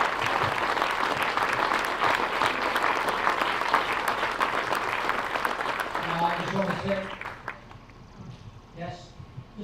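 A crowd at a Brookings Post 74 vs Sioux Falls East Post 15 baseball event gives a retiring commission member steady, dense applause that fades away toward the end, with a voice or two briefly audible as it dies down.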